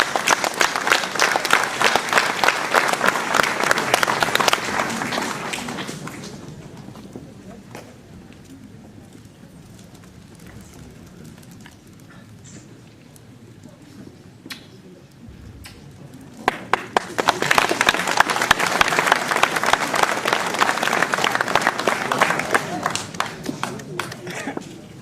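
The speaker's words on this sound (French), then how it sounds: "Je veux appeler évidemment Madame Marie-Hélène Lecoeur, médaille d'argent, et on peut l'applaudir." A crowd applauds a silver medal recipient at a mayor's New Year reception in Ouistreham, loud sustained clapping that fades into a quieter pause with murmuring, then swells again into a second strong round.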